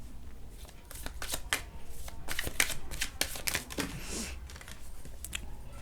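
Tarot cards being shuffled and drawn, a run of quick close papery riffles and slaps with light taps, fairly quiet and without talk.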